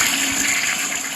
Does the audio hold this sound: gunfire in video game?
no